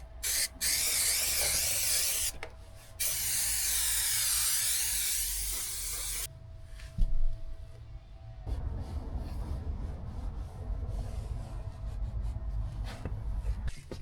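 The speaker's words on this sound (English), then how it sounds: "I just hope there's enough spray in here because there isn't much in it" An aerosol spray can hisses in long continuous bursts, a short spray followed by a sustained one of several seconds, close and loud, used while carpeting a campervan interior during a conversion; quieter handling noises follow.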